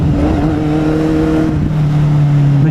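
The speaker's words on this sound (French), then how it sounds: "Dès que t'accélères, faut carrément grimper sur la moto pour pas en tomber tellement ça tire." A Honda CBR 1000 motorcycle engine drones with a steady, loud tone that shifts slightly in pitch as it accelerates, with no voices.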